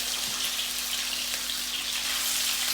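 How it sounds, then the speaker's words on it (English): Octopus sizzling in hot oil in a home kitchen, a steady, close crackling hiss with fine spattering pops throughout and no talking. "So we're going to add the octopus in the oil."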